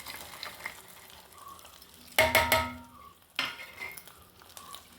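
Payasam being stirred together with nuts and raisins fried in ghee, soft sizzling with a couple of louder scraping stirs in a pot, no voices.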